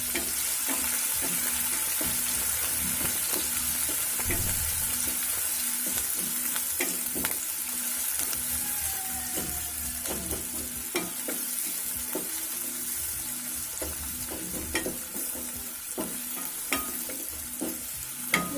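Plenty of chopped onion fries and sizzles steadily in a pan for a sandge curry, with a constant hiss and frequent clinks and scrapes of a spoon stirring it, loud and close with no voices.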